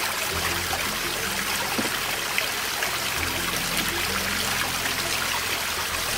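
Water running over a rock water feature, a steady close trickle and splash that holds at an even level throughout with no voices.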